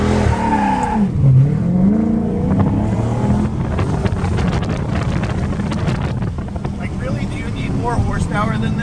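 A powerful car engine roars and revs hard while doing donuts, with heavy wind buffeting and rising and falling engine pitch. People talk and shout excitedly over the noise.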